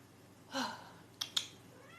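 A house cat gives a single soft, brief meow, faint against a quiet room, followed by two small sharp clicks.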